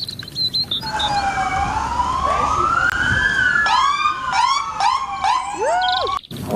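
A toy police car plays its electronic siren close by, a loud wailing tone that rises and falls before switching to rapid yelping bursts.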